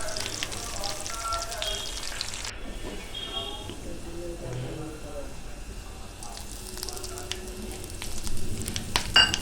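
Slit green chillies and curry leaves crackle and sizzle in hot oil in a pan for kakarakaya fry, a steady hiss that swells louder near the end, with someone talking over it.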